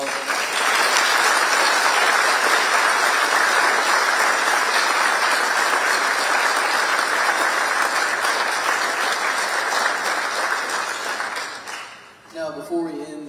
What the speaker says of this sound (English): Can we please give both of our mayoral candidates a round of applause?